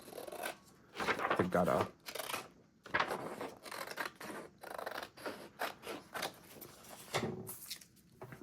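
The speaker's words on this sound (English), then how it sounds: "I'd rather just use my scissors at this point in time." Scissors snipping paper while decorating a Christmas journal, several crisp cuts and rustles scattered through the passage, close by, with someone talking over much of it.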